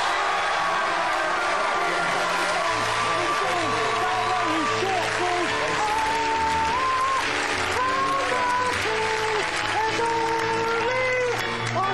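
Sustained applause from an audience with a bright, busy musical or voiced layer running through it, loud and steady throughout.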